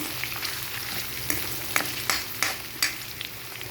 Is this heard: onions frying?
yes